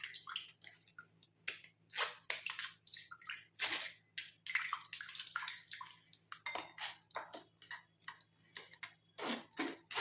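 Herbal juice filters through and drips, heard as quiet, irregular close drips and trickles over a faint low hum, with no talking.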